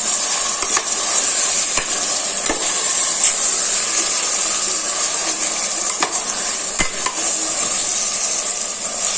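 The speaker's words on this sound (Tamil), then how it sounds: "ஒரு பத்து நிமிஷம் நல்லா வதங்கிருச்சு கறியெல்லாம்" Chicken pieces fry in a pot for biryani, a steady close sizzle and hiss with occasional sharp clinks of stirring against the metal.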